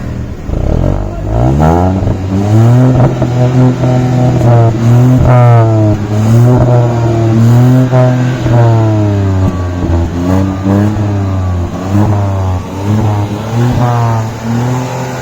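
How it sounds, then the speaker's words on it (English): A Hyundai i20 N Line hatchback engine revs hard through a sporty exhaust, rising and falling in repeated loud pulls with a throaty, steady roar and no talking. "with both the NLine variants getting a sporty exhaust note"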